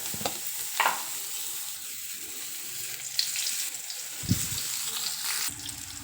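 Tomato slices sautéing in hot oil in a pan while chicken fry is cooked, a soft steady sizzle with a few scraping stirs and knocks, close by and without speech.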